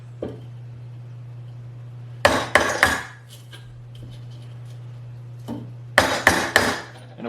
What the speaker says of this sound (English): you can take this chisel and make pretty large removals pretty swiftly